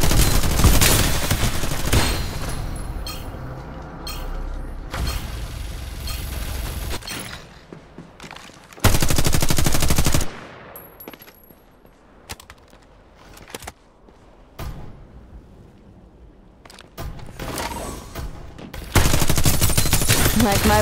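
Repeated bursts of automatic gunfire in the battle-royale shooter Farlight 84, loud volleys and rapid rattling fire broken by quieter stretches of mechanical clicks and reloading.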